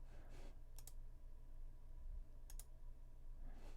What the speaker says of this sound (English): click that button